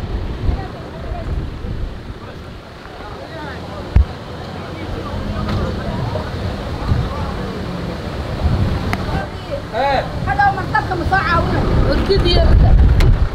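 Steady wind buffeting and rumbling across the microphone on a Somali beach, broadband and constant, with faint voices and outdoor activity underneath.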